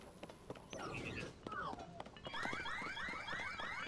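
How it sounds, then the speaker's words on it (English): A small chirping alarm call from creatures in Zelda: Tears of the Kingdom, rapid rising-and-falling whistled tones repeating in a quick burst over a busy game soundscape. "I love that little alarm sound they do."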